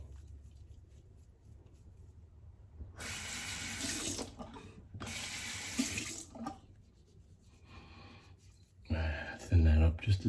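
Water runs from a tap in short bursts for thinning Barbasol shaving cream before a shave with a vintage Gillette Slim adjustable razor, with gaps between streams and a louder splash near the end, while someone talks.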